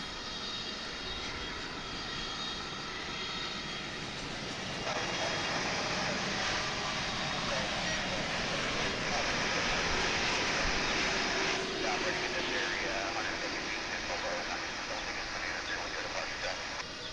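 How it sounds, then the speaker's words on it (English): A Boeing 787-9 jet coming in to land at DFW airport, a steady far-off engine roar that grows louder and fuller midway and then holds, with occasional speech beneath it. "This will be a 787-900"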